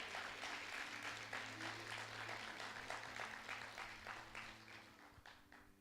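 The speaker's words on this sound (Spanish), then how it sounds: "Denle un aplauso al Señor." A church congregation applauds during a sermon, scattered clapping that is fairly faint and distant, with a low steady hum beneath and a gradual fade toward the end.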